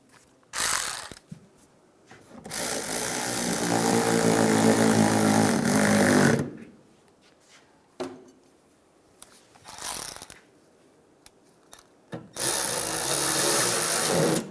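Headlight mounting bolts on a Chevrolet Silverado tightened with a ratchet, loud close bursts of rapid clicking in several long runs separated by pauses and short taps.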